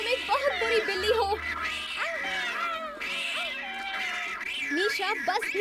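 A cartoon cat in a Cinderella story meows and yowls in a shrill, wavering voice, with repeated cries over about five seconds mixed with other cartoon sounds.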